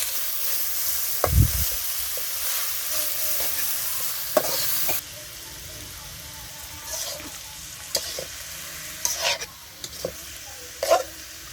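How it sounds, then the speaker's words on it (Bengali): Boiled greens hit a pan of hot onions for a village-style baghar, giving loud hissing sizzle and scraping stirs, then a quieter steady fry punctuated by sharp spatula knocks and clatters. "এখন হলো শাকটা বাগারে দিয়ে দেবো"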